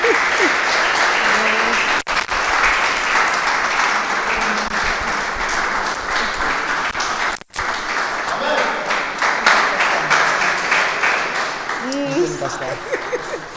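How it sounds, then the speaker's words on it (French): A studio audience on a youth talk show claps in sustained, dense applause as a guest is called forward, with brief dropouts and a voice speaking faintly near the end. "sous vos applaudissements."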